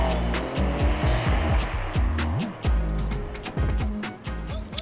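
A Caterham Seven 170S, a light sports car with a 660cc turbocharged engine, pulls away with engine revs rising and falling through the gears. It is loud and close, with a voice briefly heard over it.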